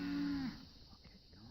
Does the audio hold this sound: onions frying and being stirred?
no